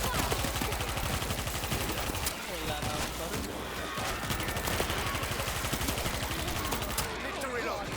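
Dense, continuous rapid gunfire from the World War Z video game fills the scene, loud and sustained throughout, with bursts of other game noise mixed in.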